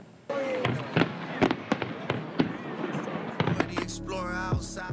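Fireworks burst over Toronto's night sky with a rapid run of sharp bangs and crackles. Near the end, a voice starts talking over them.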